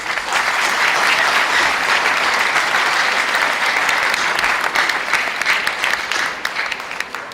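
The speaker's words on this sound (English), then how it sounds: "let's give them a round of applause" Sustained applause from a sizable audience, dense and steady clapping throughout, thinning slightly toward the end.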